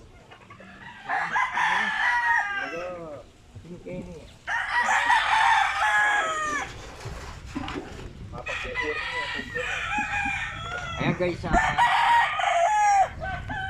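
Chickens cluck and a rooster crows repeatedly, fairly close and loud, with someone briefly speaking over the barnyard noise.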